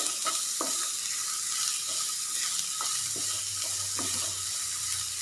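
Onions are stirred in a pan for okra thoran under a constant hissing sizzle, with soft rhythmic scrapes of the spoon recurring about once a second, close and moderately loud.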